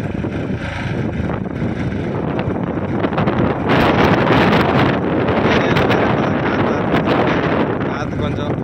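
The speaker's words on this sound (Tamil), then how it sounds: "காற்று கொஞ்சம் புழுதி வறக்கிறதுக்கு விட்டு தான் வர மாதிரி இருக்குது." Strong wind blows across an open field where a tractor ploughs with a 26-inch plough, kicking up dust. The rush is loud and steady, buffeting the microphone, and grows heavier midway.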